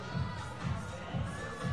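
Crowd noise at an indoor climbing competition rises and falls in steady low swells, a packed audience cheering a lone climber on the wall at a national cup event.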